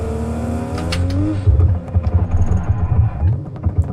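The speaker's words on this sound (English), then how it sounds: "The blow-off still sounds like shit." A van's turbocharged engine in the BeamNG driving game revs and pulses through a rough, uneven sequence, with short bursts that fit a turbo blow-off valve venting between throttle lifts, sounding close and loud with no talking.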